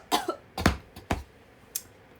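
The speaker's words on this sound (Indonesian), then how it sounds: "Lu langsung batuk gini" A few quick, sharp coughs sound in close succession, then one lighter cough after a short pause, close and fairly quiet.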